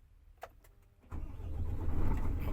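A Mercedes-Benz Actros 2636 LS truck engine cranks and fires after a few faint clicks, then settles into a loud, steady diesel rumble that keeps building, heard up close from the cab.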